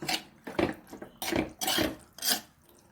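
Ivy gourd curd curry (kovakka pachadi) is stirred in a pan, giving a series of rhythmic scraping, clattering strokes about half a second apart, close and moderately loud with no talk.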